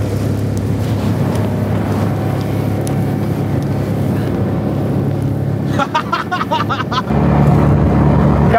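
A speeding motorboat on the Sognefjord in Norway, its engine a loud, steady drone with wind rush throughout, briefly choppy near the end before the roar swells again; voices are faint or absent under the noise.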